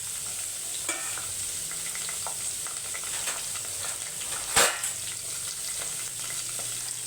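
Shallots fry in a pan in a constant close hiss and sizzle, with one brief louder clatter of stirring near the middle and no talk.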